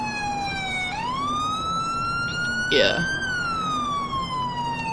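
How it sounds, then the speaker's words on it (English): A video game police car siren wails continuously, its pitch sliding up and down, with a short spoken word in the middle. "I guess we could just put our sirens on."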